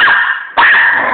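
An excited dog barks in a loud, continuous run of yelps and barks close by, with a brief dip in the middle before another strong bark sounds out.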